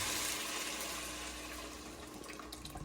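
Blended pumpkin mixture for Jamaican-style pumpkin soup is poured into a pot, making a steady, close liquid rush that fades slightly over about three seconds with no voices.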